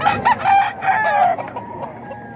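Several roosters crow close by, a couple of drawn-out cock-a-doodle calls overlapping with softer clucking, loud at first and then fading into quieter farmyard fowl sounds.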